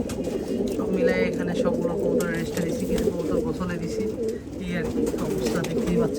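Fancy pigeons coo in low, throaty rolling calls while feeding nearby, with someone talking over them throughout.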